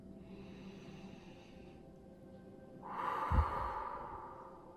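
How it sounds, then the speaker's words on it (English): Slow, deep belly breaths taken during a guided meditation, soft and close, with a fuller, louder exhale swelling near the end over a quiet background. "let's take about 3 deep belly breaths right now together"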